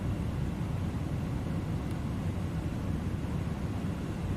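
Engines of the iniBuilds A310 airliner in the Microsoft Flight Simulator game give a steady, low, even roar in flight, droning continuously without change and without any voices.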